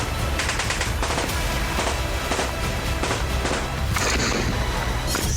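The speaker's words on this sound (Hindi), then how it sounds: "टीटीपी लड़ाकों ने पाकिस्तानी सेना पर अंधाधुंध फायरिंग की" Rapid bursts of indiscriminate gunfire from TTP fighters on the Pakistani army in Khyber Pakhtunkhwa, repeated crackling volleys and machine-gun rattles continuing throughout, loud and dense.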